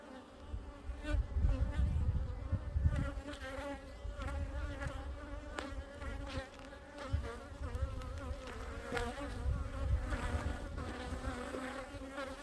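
Honey bees buzz continuously from an opened hive, a dense, close, wavering drone with many overlapping wingbeats, fairly quiet and with no talking.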